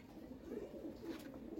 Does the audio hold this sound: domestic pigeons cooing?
yes